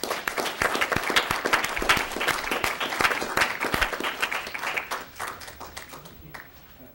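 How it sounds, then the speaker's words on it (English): Steady applause from a room of attendees at a board meeting, loud and close, clapping for several seconds before tapering off at the end. "Another round of applause, I think."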